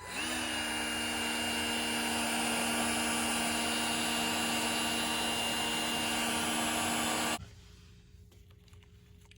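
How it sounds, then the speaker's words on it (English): A heat gun blows hot air to set glue on a Greenlight toy car, a loud steady whine and rush of air that cuts off sharply near the end, leaving a faint hiss. "Heat gun."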